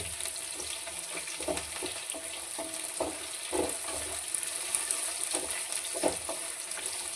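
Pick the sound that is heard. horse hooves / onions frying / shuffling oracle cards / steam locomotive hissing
onions frying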